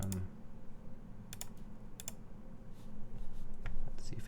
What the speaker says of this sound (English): The metallic sound over there is just the other keyboard over here.